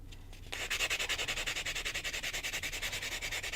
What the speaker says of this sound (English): now you can hear the sandpaper working